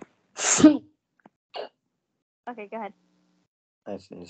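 A single loud, sharp sneeze bursts out close by, followed by short stretches of casual talk from people in a quiet room.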